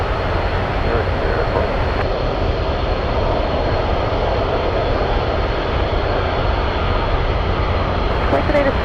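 Boeing 747 Dreamlifter taxiing at Anchorage airport, a steady loud jet engine roar that holds constant throughout with broadband rumble, no clear voices over it.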